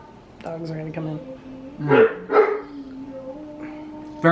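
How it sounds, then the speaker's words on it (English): Dogs bark in a few short, loud bursts close by in a kitchen while a meal is being served, with people talking over and between the barks. "Dogs are gonna come in."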